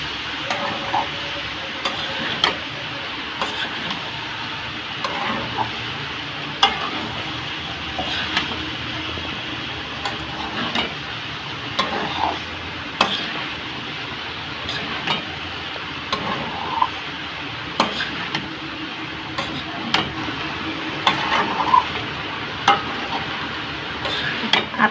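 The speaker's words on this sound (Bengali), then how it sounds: "এবার একটু নাড়াচাড়া করবো" Pasta being stirred in a frying pan at home, with repeated scraping and clicking strokes of the spoon over a steady low sizzle, close and fairly loud throughout, no talking.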